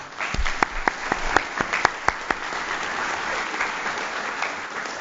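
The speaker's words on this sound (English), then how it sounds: "can we give them a round of applause?" A round of applause at a city Board of Mayor and Aldermen meeting honoring a scout troop, with scattered sharp individual claps near the start over a steady wash of clapping.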